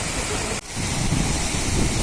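A steady, dense roar of rushing water from the Gitgit waterfall in Bali fills the clip, broadband and constant, with one brief dip in the middle.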